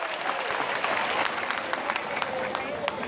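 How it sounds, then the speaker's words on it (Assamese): Crowd applause at a political gathering, dense steady clapping from many hands close by for the whole stretch, with no lull. "আপোনালোকে এবাৰ হাত চাপৰি মাৰি"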